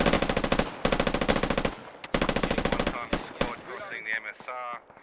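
Bursts of automatic gunfire in a military video game, rapid rhythmic volleys close and loud across the first three seconds, then scattered single shots and distant clatter with voices in the background.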